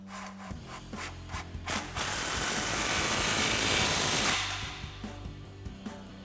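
An impact wrench with a 16mm socket tightens exhaust clamps on a 2021-2024 Ford Bronco cat-back system, a loud sustained rattling whir for about two seconds between a few clicks and clanks.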